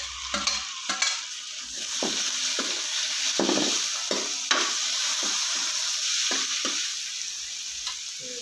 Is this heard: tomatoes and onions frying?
yes